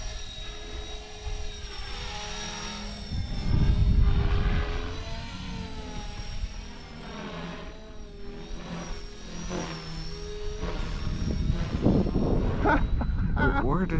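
A Blade 330X RC helicopter flies outdoors in wind, its rotor giving a steady high whine that rises and falls as it moves, with a voice talking over it.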